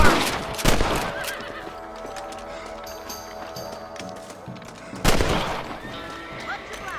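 A horse whinnies loudly in the Red Dead Redemption video game, with a second sharp neigh several seconds later and faint hoof and ambient game sounds between them.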